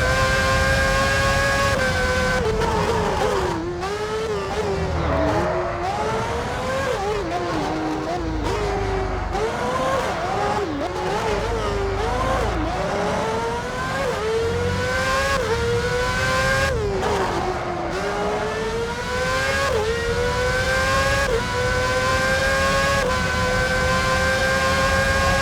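Formula 1 race car engine in the F1 06 video game, a loud continuous high-pitched whine rising and falling through gear changes and corners, with a commentator's voice heard over it.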